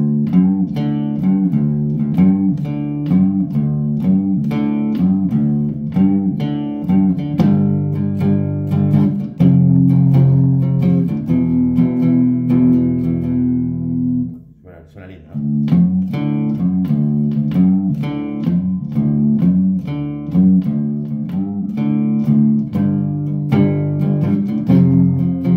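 Cigar box guitar in open D tuning played with a distorted, effects-driven tone: repeated strummed chords in a steady rhythm with strong bass, loud and close, with a brief pause partway through before playing resumes.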